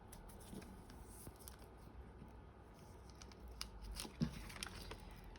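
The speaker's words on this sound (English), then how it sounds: "Scissors it is." Scissors snipping through double-sided tape while journaling, faint close crisp cuts and rustling paper, with one sharper snip near the end, in a quiet room.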